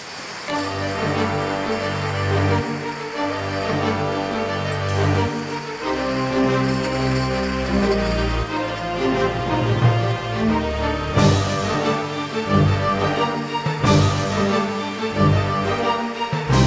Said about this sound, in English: Two machines take off the pallets and the piles of bottles in order to release them and send them on the production lines